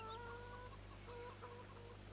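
Chickens in a farming video game cluck and chatter softly in short repeated calls over a steady low background hum.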